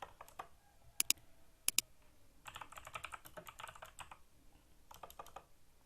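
Computer keyboard typing during a Microsoft Word session: loud, sharp key clicks in two brief pairs, then a denser burst of quicker keystrokes in the middle and another short run near the end, heard alone in a quiet room.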